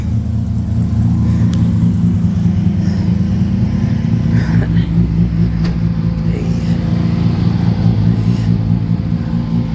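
A car running on a freshly rebuilt engine after the old motor blew, its loud steady low rumble and idle throb continuing close by throughout, with no talk over it.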